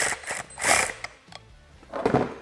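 Allen head screws being tightened on a Can-Am Defender side mirror, a few short metallic ratcheting clicks and scrapes in separate bursts with quiet gaps between them.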